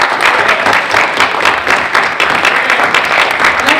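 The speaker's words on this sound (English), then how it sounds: "Let's give our moderator a round of applause." Audience applause at a youth empowerment forum, a dense, steady wash of many hands clapping close and loud throughout, with no pauses.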